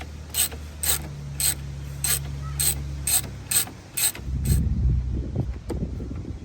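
Ratchet wrench tightening an oil pressure sensor on a car engine: a steady series of about nine crisp clicking strokes, close and distinct, followed by some fainter handling noise and rustling of the tool and parts.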